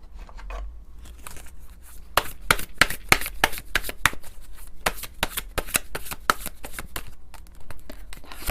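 Tarot cards are shuffled by hand in a steady run of crisp, rapid riffling flicks, close and clear with no voices.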